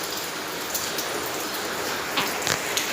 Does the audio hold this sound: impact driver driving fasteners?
no